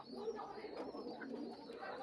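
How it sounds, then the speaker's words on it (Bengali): Pigeons on a small home farm at night cooing softly, a low, muffled, continuous burble of overlapping coos heard quietly and close, without speech. "কবুতর"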